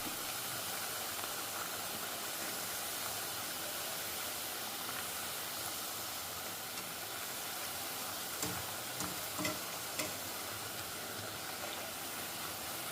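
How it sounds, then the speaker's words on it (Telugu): Snacks sizzling in hot oil during a second batch of traditional homemade fried treats, a steady dense hiss of bubbling frying that runs throughout, with a few brief clinks near the end. "సో నేను సెకండ్ రౌండ్ వేసేసాను వేగుతున్నాయి కొంచెం వేగాలి"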